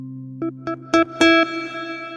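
A Yamaha DX7 guitar preset on a MODX synthesizer with reverb: four plucked notes rise in loudness over a sustained low drone, the last ringing out into a lingering reverb tail.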